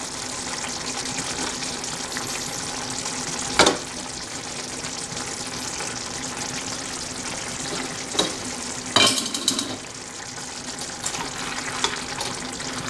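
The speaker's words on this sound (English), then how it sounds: "In a slow flame only, I'm going to add our boiled egg." Boiled eggs are stirred over a slow flame into a frying spicy potato gravy, with a constant close sizzle and bubbling and a few sharp spoon knocks against the pan, no talking.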